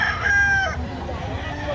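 A rooster crows loudly and near at a chicken market in Lipa City, Batangas, one drawn-out call in the first second with clucking fowl and market bustle continuing around it.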